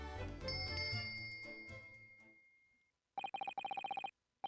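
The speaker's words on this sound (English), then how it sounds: "Yeah, this is the bell sound we heard." A bell cord pulled in a Sherlock Holmes adventure game sets off a bright bell ringing in rapid repeated bursts, loud and close, after a fading musical passage and a short silence.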